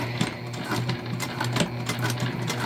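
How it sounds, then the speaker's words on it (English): Sewing machine back stitching with black thread while making a shoulder bag, a steady, fast mechanical whir of stitching that runs nonstop and close up, with no talking. "because we are going to back stitch"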